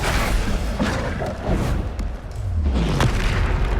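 Bombarda spell blast in Hogwarts Legacy combat, a dense booming explosion with thuds and bursts rolling continuously through the stretch amid other spell effects.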